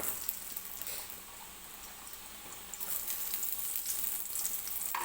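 Ghee heating in a large kadhai for moong dal halwa gives a steady, soft hiss and sizzle with no talk, growing a little louder and busier in the second half.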